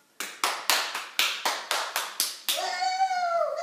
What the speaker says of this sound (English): I will give a round of applause to Michael.